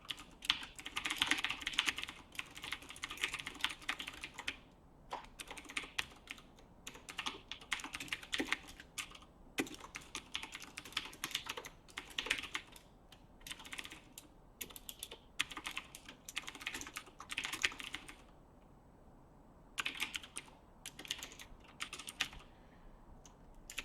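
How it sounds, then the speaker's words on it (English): Typing on a computer keyboard while building gameplay tests, with rapid, irregular bursts of close key clicks separated by short pauses, fairly quiet and with no talking. "We're just typing a bunch of stuff."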